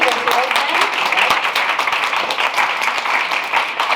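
Audience applause at a debate orientation session, steady dense clapping from a room of participants lasting several seconds, with some voices mixed in underneath.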